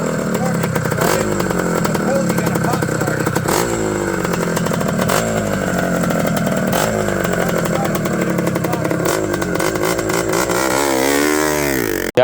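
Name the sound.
1974 Husqvarna 250 CR Mag motorcycle engine running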